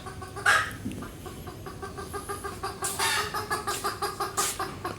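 Agitated chickens cluck rapidly and loudly nearby after a predator raided the chicks, a rhythmic run of alarm calls with a sharp squawk at the start.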